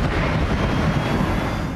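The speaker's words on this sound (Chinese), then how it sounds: "这就是俄军首度对乌克兰哈尔科夫动用 FAB-3000 高爆航空弹的攻击瞬间画面" A Russian FAB-3000 guided bomb striking an apartment building in Kharkiv: a deep, rumbling blast roar that rolls on steadily for under two seconds, heavy in the low end with no voices.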